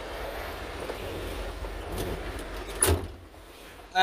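Cab door of a UD Big Thumb Gen 3 CWB 45 6x4R dump truck swung shut, a single solid thud near the end after quiet rustling inside the cab.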